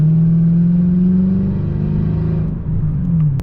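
A Mercedes CL500 coupe's 5.0 V8 pulls hard under acceleration, a loud, steady engine drone that climbs gradually in pitch close to the car, easing slightly near the end.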